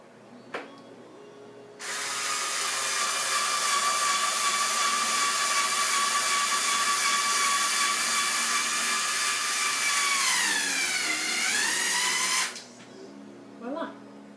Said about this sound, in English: And then I'm going to put the screws in.